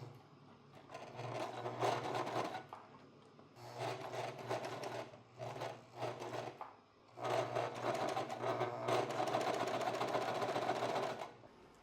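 A sewing machine runs in three bursts of rapid stitching along a button-up shirt placket, separated by short pauses, close and steady.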